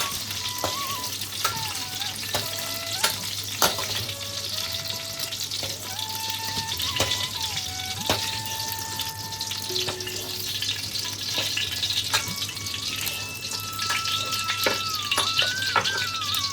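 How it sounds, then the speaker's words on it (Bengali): Pointed gourd (potol) frying in oil for a vegetarian potol paneer dish, a continuous sizzle with frequent utensil clinks and scrapes, plus scattered tonal squeaks and occasional trickling water nearby, no speech. "পটলটাকে কিন্তু ভালো করে ভাজতে হবে।"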